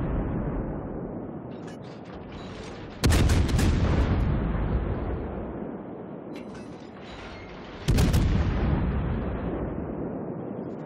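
Two heavy naval gun salvos boom from warships in a naval video game, the Des Moines and its opponents, each a sharp loud blast that trails off into a long rumbling decay.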